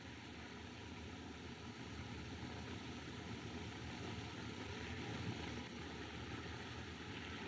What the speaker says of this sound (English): Ah, plane. Probably making a forced landing.